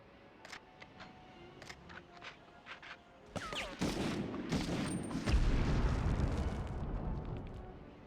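A grenade blast in the 1999 Medal of Honor shooter, preceded by scattered clicks and small gunshots, then a loud, rumbling explosion that swells and roars for several seconds.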